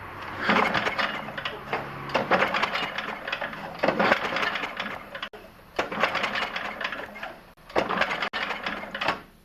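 Repeated pulls on the recoil starter of a 4-5 HP Tecumseh snowblower engine, giving a series of close, loud rattling cord-and-ratchet bursts separated by short pauses, with no firing of the engine.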